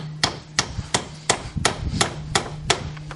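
A hammer strikes repeatedly while building a homemade hydroponic grow bed with a pond liner: about nine sharp, evenly spaced blows at moderate distance, with no talk.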